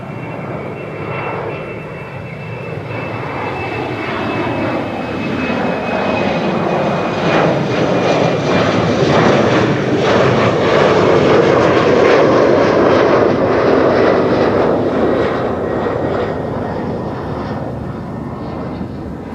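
Airliner jet engines roar at Amsterdam Schiphol Airport, swelling from a distant whine to a loud, broad rumble at the peak before easing off as the plane passes, without talk.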